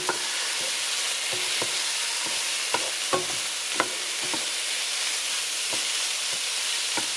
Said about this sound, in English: Just let this simmer a bit more.